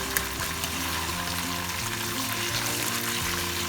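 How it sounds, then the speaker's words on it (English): Onions sizzle steadily in a hot pot over medium heat, a constant crackling fry with faint stirring, up close and uninterrupted, for Nigerian coconut jollof rice. "Remember, we're still frying it on medium heat."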